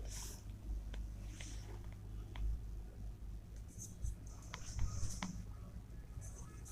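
Marker or chalk writing on a classroom board during a physics lesson, soft scratchy strokes and taps in short irregular bursts over a low room hum, close and faint.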